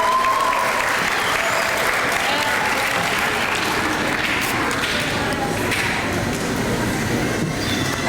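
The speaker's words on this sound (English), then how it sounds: "our vice principal, Ms. Veronica Rodriguez, so let's give her a round of applause" A crowd claps loudly and continuously at a sixth grade graduation, a dense wash of applause filling the room for several seconds.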